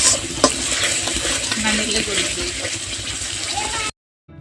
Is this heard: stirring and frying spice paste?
yes